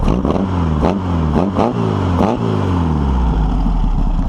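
A small pressure washer engine, just tuned, revs up off idle in repeated rising bursts, loud and close with a clattering exhaust note and no speech.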